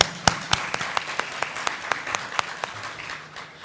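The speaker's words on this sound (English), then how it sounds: "Let's give a round of applause for the ASEAN." An audience at the 10th ASEAN Competition Conference applauds, with distinct sharp claps standing out over a softer bed of clapping that tapers off toward the end.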